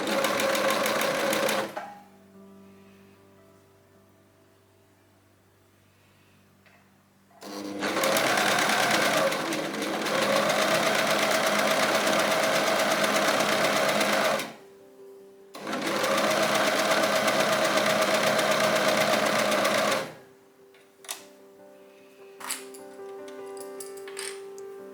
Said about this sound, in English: Sleeves and side seam are sewn in one go.